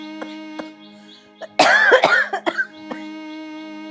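An ailing mother in a Hindi film scene breaks into a cluster of harsh, throaty coughs, one burst after another, over a soft sustained musical tone.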